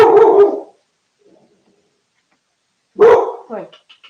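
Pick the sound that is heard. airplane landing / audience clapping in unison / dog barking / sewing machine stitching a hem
dog barking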